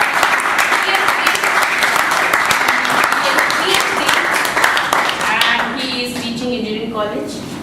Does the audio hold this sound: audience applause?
yes